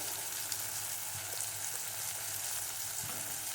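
Tomatoes sauté in a pan with salt just added, giving a steady, even sizzle of frying that carries on throughout, with faint soft scrapes from stirring.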